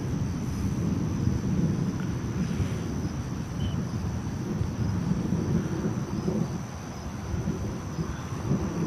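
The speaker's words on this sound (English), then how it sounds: "it was like a severe thunderstorm warning." Low, continuous rumbling thunder rolls through a severe thunderstorm, steady and fairly loud throughout, with no voices.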